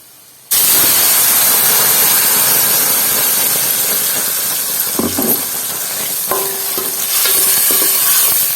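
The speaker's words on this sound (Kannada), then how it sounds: "ಈ ಫ್ರೈ ಮಾಡಿದ ಬೆಳ್ಳುಳ್ಳಿ ತಿನ್ನೋಕ್ಕೊಂದು ಟೇಸ್ಟ್ ಇರುತ್ತೆ ಚಂದ ಅದು ಬ್ರೌನ್ ಕಲರ್ ಬರಬೇಕು" Garlic frying in a pan, a loud steady sizzle and hiss that starts abruptly and holds throughout, with a few clinks and stirring knocks near the end.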